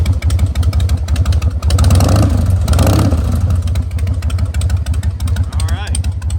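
A 2003 Harley-Davidson Softail Standard 100th Anniversary with a carbureted engine idles loudly and close by in an uneven, lumpy rhythm, with a brief rise in revs, while someone talks over it.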